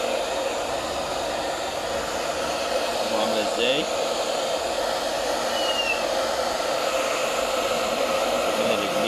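A handheld hair dryer blows steadily on a cat being dried after a bath, a constant loud whoosh through the whole stretch while someone speaks briefly over it.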